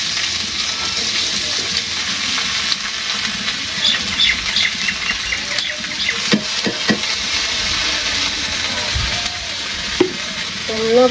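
Potatoes and bitter gourd fry in a pan with a steady, close hiss, broken by occasional clacks of a utensil stirring and scraping.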